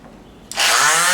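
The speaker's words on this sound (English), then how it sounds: "Now I'm just using a palm sander here to basically make the surface nice and smooth and ready" After a quiet moment, a palm sander starts up abruptly and runs with a loud, steady buzzing whine as it smooths the wooden surface of a bat house.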